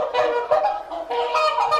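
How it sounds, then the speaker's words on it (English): Geese honking as a sound effect in a school radio play, a dense run of nasal honks and squawks that overlap continuously for about two seconds, loud and close. "And the fleeing geese from the city, with their friends, as always, the cows."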